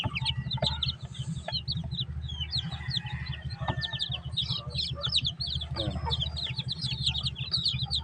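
Newly hatched chicks from an incubator keep up a constant high-pitched peeping chorus, with many overlapping cheeps close by. A low background hum runs under them, and no one speaks.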